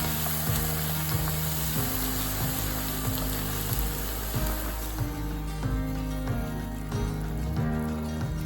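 Jaggery syrup cooked with semolina and coconut, stirred in a pan: a soft bubbling sizzle with regular scraping stir strokes, close and moderately quiet.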